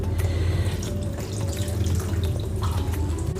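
Water pours steadily from a tap into a pan of potol kurma, a pointed gourd curry, a continuous close splashing stream with no talk.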